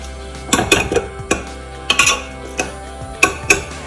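A spoon scrapes and clinks against a pot while mutton curry gets stirred. About ten sharp metallic taps and scrapes come in irregular clusters, close and fairly loud, over a low steady hum.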